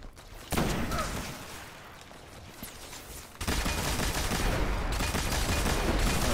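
The Thunderlord machine gun in Destiny fires sustained bursts at shanks, a dense, loud stream of crackling shots. The fire pauses briefly and then resumes even louder, with no voices.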